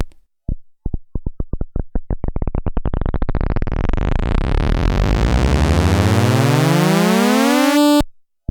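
Detuned synth layers on an Elektron Digitakt, opening with a few sparse stabs that quicken into a dense buzzing riser, climbing steadily in pitch for several seconds into a loud dissonant smear before cutting off abruptly.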